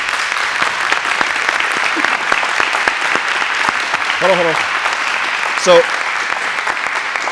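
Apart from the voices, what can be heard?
audience applause for school resource officers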